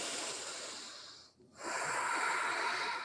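Deep breathing during a yoga back bend in a power flow class: a long, airy inhale, a brief pause, then a steady breathy exhale, close and soft, with no talking.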